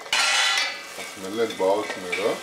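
Potato pieces for dum aloo fry in hot oil in a pan with a loud, close sizzle at the start. The sizzle then settles under voice-like tonal sounds.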